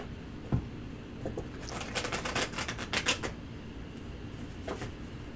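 A mermaid tarot card deck being shuffled by hand, giving a burst of quick, papery riffling flutters with a few soft taps before and after, close and fairly quiet.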